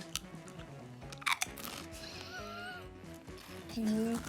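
Crunching of Bloody Mary prawn cocktail flavoured crisps, a few close, sharp bites and chewing, with quiet voices and music-like tones in the background.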